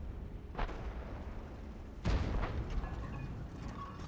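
Artillery fires in the tank game World of Tanks: a muffled boom, then a louder heavy shot with a rumbling tail, over steady low background noise.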